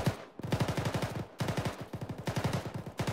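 Automatic weapon fire in a video game rings out in three long rapid bursts with short gaps between them, loud and close, with no talk over it.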